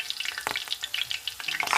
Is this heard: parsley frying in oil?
yes